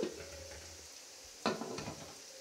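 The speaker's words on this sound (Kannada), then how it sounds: "ಈರುಳ್ಳಿ ಫ್ರೈ ಆಗ್ತಾ ಇದೆ" Onions frying in a pan give a faint, steady sizzle, broken by a couple of brief scraping stirs partway through.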